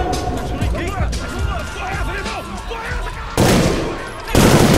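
Gunfire in the Brazilian film Elite Squad: bursts of shots crack out amid shouting voices and chaotic crowd noise, with two sharp, loud blasts near the end.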